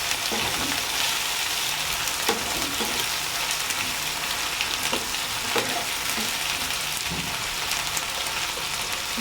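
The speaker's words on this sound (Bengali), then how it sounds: "এখানে এখন দিয়ে দিব আদা রসুন বাটা" Ginger garlic paste frying with onions in hot oil, a dense, loud, continuous sizzle with occasional stirring scrapes and bursts of crackle, close up and without speech.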